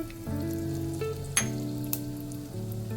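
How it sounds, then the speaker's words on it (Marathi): Cumin seeds and asafoetida sizzle in hot oil as a tempering for a yogurt and papad curry, a close, steady frying hiss with a few sharp crackles and pops. "त्याच्यात आपण जिरा आणि हिंगाची फोडणी घालू."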